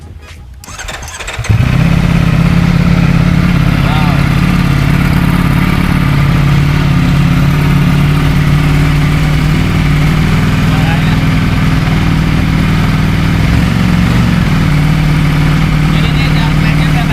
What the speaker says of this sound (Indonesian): kita bakal mendengarkan suara knalpot orinya gitu